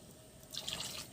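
Water pours into a cooking pot for a dried-fish curry, a soft continuous splashing that grows brighter and fuller partway through, quiet and close, with no talking.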